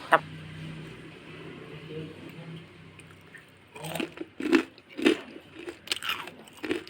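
Crispy fried green chili ring snacks crunched in several loud, close bites during the second half, following a stretch of quieter background sound.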